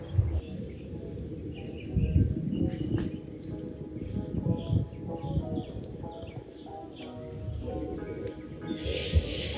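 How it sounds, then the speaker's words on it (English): Birds chirping and cooing outdoors at a moderate distance in a quiet residential neighborhood in Miami, Florida, scattered calls over a steady low background hum. "You can still hear the birds chirping during the middle of the day on a Saturday"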